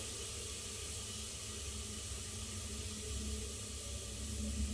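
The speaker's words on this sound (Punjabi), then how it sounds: "ਇਹ ਆਪਾਂ ਲਸਣ ਤੇ ਪਿਆਜ਼ ਤੇਲ ਦਾ ਤੜਕਾ ਲਾ ਰਹੇ ਹਾਂ" A soft, steady hiss of garlic, onion and cumin tempering sizzling in hot oil, continuous and fairly quiet, with a low hum underneath.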